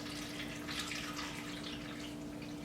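Water is poured into a container that holds a plant base, a soft, steady trickling splash heard faintly over a low background hum.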